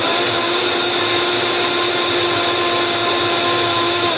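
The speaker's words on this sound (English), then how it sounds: "You're going to hear the blender." A countertop blender runs loud and steady on liquid, making a continuous close-up whirring roar with a constant motor hum and no pauses. Nobody talks over it.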